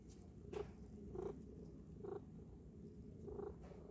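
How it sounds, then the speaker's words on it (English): A contented cat purrs softly at close range outdoors in the sunshine, a low continuous rumble with gentle swells roughly every second, heard alone without talk. "He's purring away."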